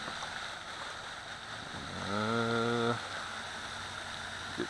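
A ProBoat Miss GEICO 17 RC boat on a lake gives a brief rising motor whine for about a second over steady background hiss and water noise.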